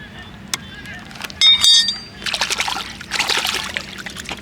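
Rock crab pieces being rinsed and washed in water, with intermittent sloshing and splashing, short scrapes and clicks, heard close alongside a bit of talking.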